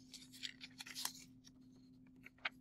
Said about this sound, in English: You cut a little bit of it.